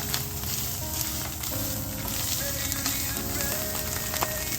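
Salisbury steak patties browning in a hot pan give a steady, close sizzle and crackle with small pops throughout, with no talking.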